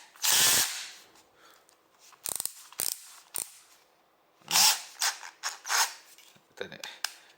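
A power drill driver tightens and loosens screws in short, separate whirring bursts, some with clicking ratchet chatter, and quiet pauses between them.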